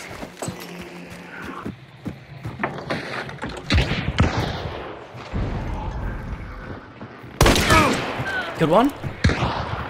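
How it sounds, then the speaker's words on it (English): A chaos bomb in the game Hunt: Showdown bursts into a rapid, crackling string of loud pops, close by, with gunfire-like bangs scattered through the scene and players talking over it. "Is that a chaos bomb?"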